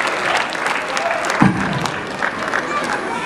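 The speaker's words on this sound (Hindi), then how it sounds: "जोरदार ताली बजाइए सर के लिए।" Audience applause at a big dance show in Navi Mumbai, a steady broad wash of clapping from a crowd that swells briefly near the middle, with voices mixed in.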